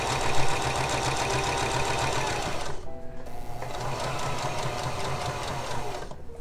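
Sewing machine stitching tucks in fabric, a fast rhythmic mechanical whirring run that stops briefly near the three-second mark, then resumes and pauses again at the end.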